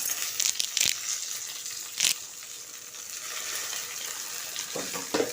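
Onion and coconut frying golden in a pan with curry leaves for a chicken curry base, giving a steady, moderate sizzle with occasional scraping and crackling bursts.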